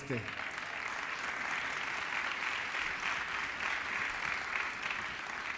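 Sustained applause from a large audience at Mexico's national tourism forum, honoring John, steady and fairly distant, with a voice trailing off at the very start.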